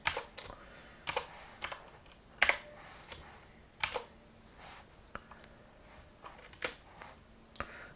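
Typing on a computer keyboard while entering PHP and HTML code, with scattered clicky keystrokes in short irregular bursts and a few louder, sharper taps, close up and alone without talking.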